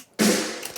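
One roomy snare one-shot sample, a single hit with a sudden broadband crack and a long ambient room tail that lingers and fades, heard alone and fairly close.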